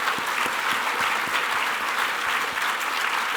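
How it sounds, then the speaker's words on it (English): A seated audience at an architecture awards ceremony applauds steadily, a dense, even wash of many hands clapping with a few louder claps standing out near the microphone. "another round of applause for all the nominated and winners tonight"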